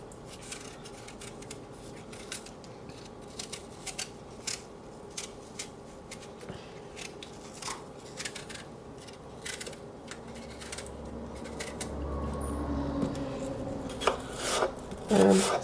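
Red delicious apples being peeled for a pie by hand, a close run of short rasping, scraping strokes in a regular rhythm, with faint background noise and handling sounds building toward the end.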